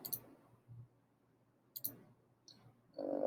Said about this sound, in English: I left click, there it happens.